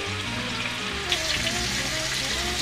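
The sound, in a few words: vegetables frying in a covered pan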